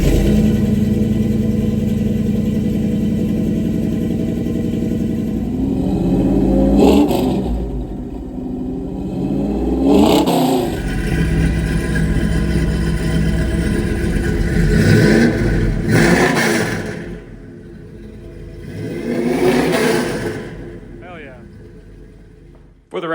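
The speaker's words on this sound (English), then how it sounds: "It's like a Flowmaster Super 40 and an H-pipe. And take a listen how this thing sounds." Classic Dodge 360 V8 with long-tube headers, an H-pipe and a Flowmaster Super 40 exhaust on a stock camshaft, idling with a deep rumble and then blipped through several loud, aggressive revs spaced a few seconds apart.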